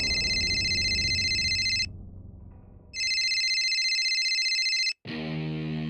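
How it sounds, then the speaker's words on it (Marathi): A telephone rings in an electronic, buzzing tone, two long loud bursts separated by a short pause, then a different tone cuts in at the end. "फॅक्टरीतनच फोन आहे बहुतेक"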